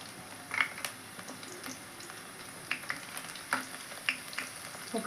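Crushed garlic and dried red chillies fry in oil for a Telugu amaranth-leaf pulusu, giving a faint, steady sizzle with a few sharper pops and crackles scattered through, close by and without talk.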